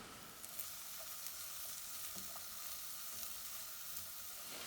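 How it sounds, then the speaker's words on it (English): Steady crackling sizzle of food frying in a hot pan, a continuous hiss with small pops, fairly close and undisturbed by talk. "I can hear this starting to sizzle."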